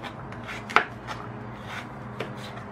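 Knife chopping raw pumpkin on a board, a few sparse, crisp thuds spaced irregularly, one sharper strike standing out, close and quiet with no talk.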